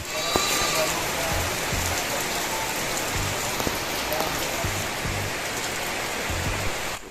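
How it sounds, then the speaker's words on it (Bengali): Steady rain falls continuously, a dense hiss of drops on surfaces with a few faint knocks and distant sounds beneath. "প্রত্যেক দিনের মতন আজকেও বৃষ্টি শুরু হয়ে গেছে"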